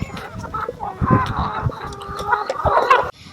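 Pasture-raised, free-range chickens cluck and squawk in an excited flock frenzy, many overlapping calls close by with a steady busy rhythm that cuts off sharply at the end.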